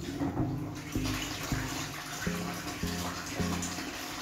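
A Sunsun JQP 1000 aquarium water pump being lowered into water, giving a steady watery rush with rhythmic low pulsing repeating about every half second, close and moderately loud throughout.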